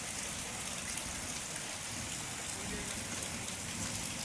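Steady outdoor rain pours down continuously, a dense, even hiss of drops on surfaces with no break in intensity, heavy and close throughout with no voices over it.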